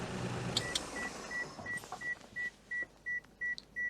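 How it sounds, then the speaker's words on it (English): A Daihatsu Charade with a swapped engine gives a regular series of short, evenly spaced warning beeps after the engine is switched off, about nine tones in a steady rhythm over faint background noise. "Do you want to get out and stop the horrible beeping?"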